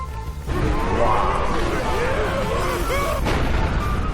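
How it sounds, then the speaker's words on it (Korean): Explosion effect from an Infinity Gauntlet skill in the Garry's Mod video game, a loud burst that sets off a dense, crackling rumble lasting several seconds, with a second surge near the end. "이거는 이제 주위에 폭발이 일어나는데 적을 태워 죽이는 효과도 이제 덤으로 있습니다"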